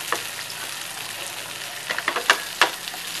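Stuffed black pomfret (jumbo halwa), Aagri style, fries in a pan with a steady, bright sizzle and scattered sharp crackles and pops that grow busier near the end, with no voices.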